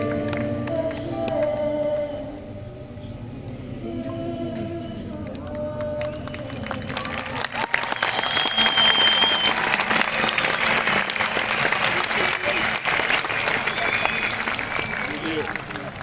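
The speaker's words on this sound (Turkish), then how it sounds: "alkışlar yeterli geldi" Audience applause after an acoustic performance of a Turkish pop song, a broad steady wash of clapping that swells in halfway through and carries on loud to the end, following quieter music and speech at the start.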